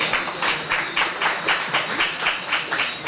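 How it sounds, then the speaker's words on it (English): A small audience claps in a rhythmic, pulsing pattern at a restaurant week news event, moderately loud and steady for a few seconds with no talking. "So let's give them a round of applause."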